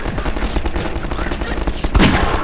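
Automated sentry turrets in Half-Life 2 rattle off rapid bursts of gunfire, sharp repeated shots close and loud with a heavier impact near the end, a voice briefly speaking over the shooting.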